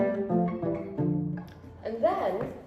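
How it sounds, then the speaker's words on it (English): Palm-muted pizzicato notes on a guitar sound as a short run of dull, thumpy plucks, close and moderately loud, followed by a person briefly speaking. "you get sort of the thumpy sound of the pizzicato"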